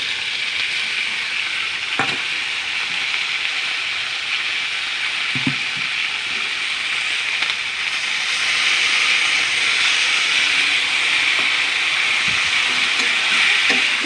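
A paste of ground ginger, cumin, coriander, turmeric and chili powder with green chilies fries in a wok, a steady loud sizzle and hiss with occasional scraping stirs, swelling brighter in the second half.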